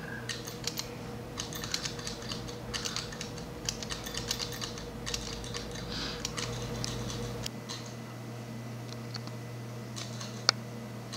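Several cameras click away at once on a South Padre Island beach during a red tide, a dense run of quick, light shutter clicks over a steady low hum, fairly close and with no talk.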